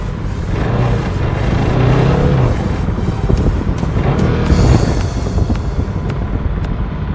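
A KTM RC390 motorcycle being ridden, its engine a loud, steady drone with rising revs, buffeted by heavy wind rush throughout.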